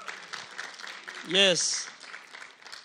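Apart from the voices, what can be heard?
church congregation applause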